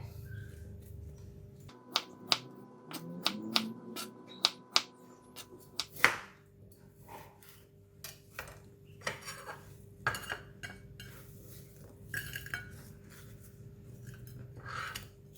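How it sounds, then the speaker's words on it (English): A knife cuts through a block of still-icy frozen crab balls on a board, giving a series of sharp clicks and knocks, some in quick bursts, with a duller scraping stretch early on. "This is still ice, so I'm going to cut it into 3 pieces like that."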